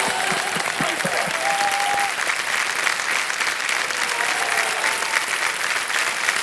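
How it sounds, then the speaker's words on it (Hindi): On the set of Kaun Banega Crorepati Season 14, a studio audience claps steadily for a contestant, a dense, even burst of many hands with faint musical tones underneath. "तालियां बज जाए इनके लिए"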